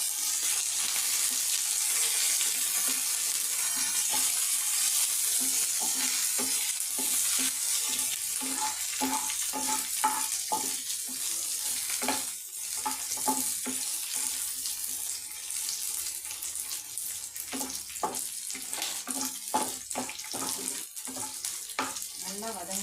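Onion and curry leaves sizzle steadily in a pan for a radish-greens stir-fry. A utensil stirs them with repeated close scraping and clacking strokes over a continuous hiss, and no one speaks.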